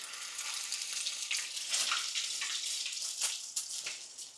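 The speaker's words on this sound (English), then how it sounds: "And then I'm going to drop it into the oil." Potato latkes sizzling in hot oil in a pan, a steady close crackling and spitting with a few sharper pops and no talk.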